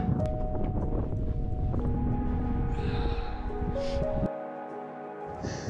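Steady wind buffeting the microphone high up a 305-metre tower in a constant low rumble, with faint tonal hums and brief higher gusts; no talking.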